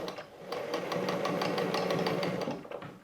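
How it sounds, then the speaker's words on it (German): A sewing machine runs steadily, stitching fabric for a beginner's Easter basket, its rapid even needle rhythm continuous for nearly three seconds between brief pauses at start and end, close and clear with no talk. "Legen das unter, verriegeln und schauen, dass wir zu unserer 6 cm Marke nähen."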